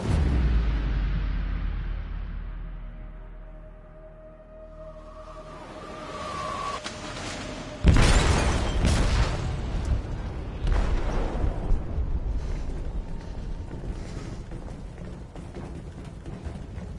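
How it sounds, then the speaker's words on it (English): An explosion goes off in a ship's hold in the game Detroit: Become Human. A deep rumble fades, then a sudden loud blast follows, trailed by crashing, rumbling debris and continued mechanical roar. "They detonated an explosive in the hold."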